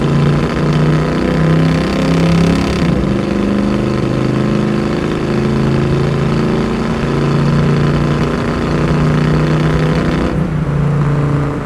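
A 1967 Chevrolet Camaro SS convertible with a 350 V8, automatic and fuel injection, runs loud and close in a steady mid-pitched drone, its note rising and shifting a few times as it pulls through gears.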